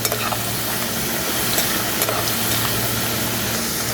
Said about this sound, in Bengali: এই যে দেখেন আমার আলুটা ভাজা হয়ে গেল